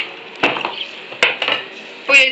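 A pot is set down in a home kitchen, giving a few loud metallic clanks and clatters close by in quick succession.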